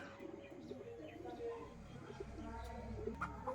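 Andhra pigeons at a seller's in Kolkata cooing softly amid scattered chirps and low background rumble, faint and steady, with a voice talking in the background.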